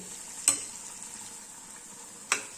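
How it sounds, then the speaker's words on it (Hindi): A tadka of red chili powder and chopped fenugreek frying in a pan gives a soft, steady sizzle, with two sharp utensil taps against the pan. "सारे तड़के को लगभग 30 सेकंड के करीब भून लेंगे"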